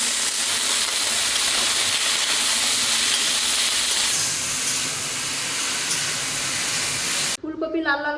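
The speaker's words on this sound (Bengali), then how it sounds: "এখন ফুলকপিটা ভাজবো।" Cauliflower fries in hot oil with a loud, dense, continuous sizzling hiss that fills nearly the whole stretch, then cuts off abruptly as a voice begins speaking.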